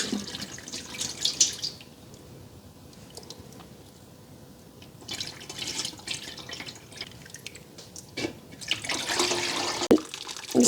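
Rendered tallow, stained from cooking, drips and trickles through a strainer in scattered wet spatters and short bursts, close up, with a louder rush of pouring near the end.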